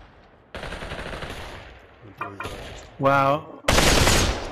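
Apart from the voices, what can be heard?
gunfire in the video game Population One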